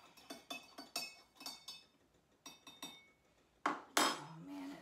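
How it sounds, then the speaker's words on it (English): A metal teaspoon clinks repeatedly against the inside of a teacup as tea is stirred, a quick rhythmic series of light close taps in two bursts, ending with a couple of louder knocks as the spoon is set down. "I always like to give my tea a good stir"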